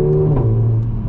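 A Mercedes A45 AMG engine running close by, a loud steady hum with a brief shift in pitch midway.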